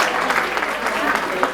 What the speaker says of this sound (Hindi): मेरी तालियां जारी रखिए